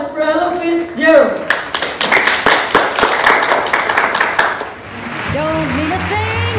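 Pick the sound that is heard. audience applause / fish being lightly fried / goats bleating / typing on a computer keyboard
audience applause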